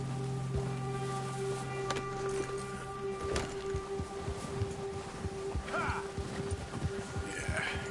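In the Red Dead Redemption 2 video game, a horse on a trail gives a brief whinny and then clip-clops steadily at close range, its hoofbeats rhythmic and distinct under faint background ambience.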